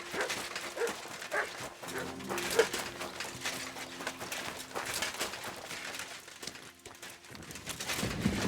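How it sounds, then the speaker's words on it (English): A dog in the video game Kingdom Come: Deliverance II gives a few short barks and soft whimpers over busy game ambience. A faint steady tone hums underneath. "Good dog, Mutz."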